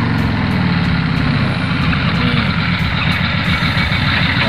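A loaded palm oil truck crawls over a badly damaged, rutted road, its heavy diesel engine rumbling loud and steady with rattling and clanking from the body throughout.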